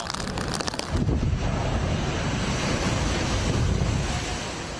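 Storm surge waves driven by Typhoon Ragasa wash onto the Tseung Kwan O waterfront promenade in Hong Kong, a loud, continuous roar of surf and rushing water with heavy wind buffeting the microphone.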